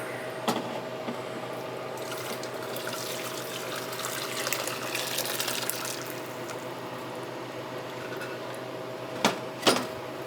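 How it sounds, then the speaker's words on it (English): Steady pouring of homemade chicken stock with a continuous watery rush for several seconds, followed by a couple of sharp clinks near the end. "Pour the rest of that in there."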